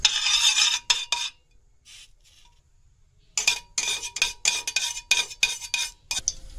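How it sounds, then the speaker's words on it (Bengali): Grated cucumber stirred with a utensil in hot ghee in a wok, heard as repeated scraping and clinking strokes in bursts, with a quiet pause partway through and no talking. "ঘিটা গরম হয়েছে, এখন আমি এটা ডালিয়ে দিলাম। ওরকম আমি কিছু সময় লাড়াছাড়া করি।"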